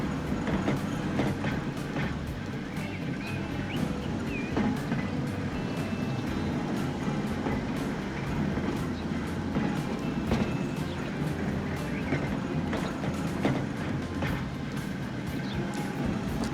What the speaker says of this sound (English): you don't get to see the awesome tram that you've just put out